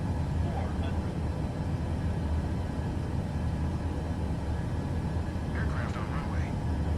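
Airliner engines roaring at full throttle during a go-around in Microsoft Flight Simulator 2024, a steady low rumble that runs throughout, with faint voices talking over it.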